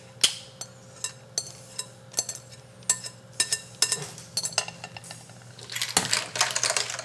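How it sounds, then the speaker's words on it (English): Clams clatter back into a metal pasta pan for clam linguine, a series of sharp shell clicks and clinks spaced irregularly over a low kitchen hum, ending in a brief louder sizzling rustle. "I'm gonna throw the clams back in with all their good juices."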